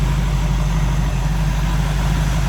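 A 1961 Corvette fitted with a 1966 Nova engine idles steadily, a loud low rumble with a constant deep hum and no voices.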